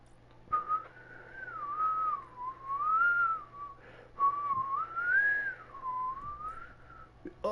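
A person whistling a wavering, sliding melody in two long phrases with a short gap between them, close and clear over a faint low background hum.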